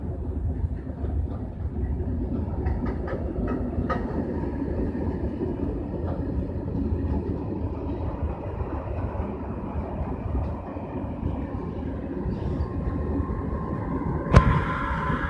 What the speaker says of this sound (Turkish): Şöyle göstereyim arkadaşlar trenimiz gidiyor